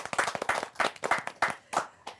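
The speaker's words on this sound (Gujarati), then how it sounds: "ખૂબ બધી તાળીઓ કિન્નરી માટે" An audience claps for Kinnari in irregular bursts of hand claps, close and lively, after a Gujarati film screening, with no one talking over it.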